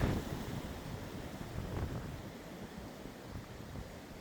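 Strong wind roars and buffets continuously, a broad rushing noise with gusts swelling and easing, no voices present.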